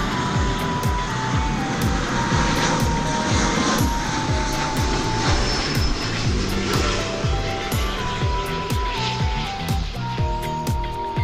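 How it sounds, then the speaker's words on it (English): An American Airlines Airbus A319 jet at DFW Airport passes with a loud, sustained engine roar and a whining tone that sweeps downward as it goes by. "We had there American Flight 3098 from San Antonio, Texas, in Airbus A319"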